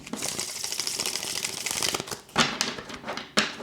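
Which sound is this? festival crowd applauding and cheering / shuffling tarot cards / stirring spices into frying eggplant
shuffling tarot cards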